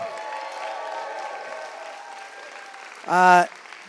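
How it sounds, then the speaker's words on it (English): Applause from an audience at the 6 Degrees Toronto 2019 event continues softly beneath a speaking voice, ending with a short, loud vocal burst near the close. "a big round of applause"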